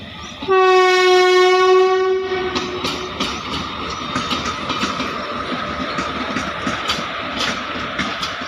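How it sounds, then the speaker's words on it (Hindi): The Dehradun Express pulls into Beas railway station with a loud, sustained multi-tone horn blast for about two seconds, followed by rumbling wheels and rhythmic clattering over the rails as it runs past up close. "आ ट्रेन आ रही जनता आ गई देहरादून एक्सप्रेस"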